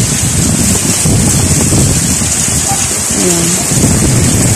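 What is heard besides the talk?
strong wind during typhoon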